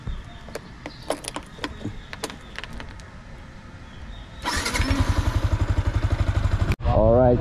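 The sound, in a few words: motorcycle engine starting up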